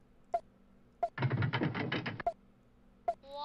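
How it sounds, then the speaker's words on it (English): A Kid Pix gears sound effect plays as a roughly one-second rattling, grinding mechanical whir, framed by a few sharp clicks. "I like the gears."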